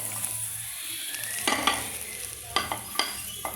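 Sliced raw plantain is tipped into a pan of hot oil, bringing a steady sizzle broken by several sharp scrapes and clatters of a utensil against the pan, close up and without talk.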